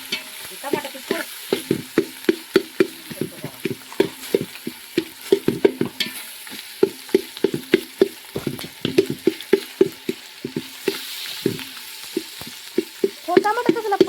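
Biryani frying in a pan is stirred in a steady rhythm of close, repeated scraping strokes over a continuous sizzle, with no talk.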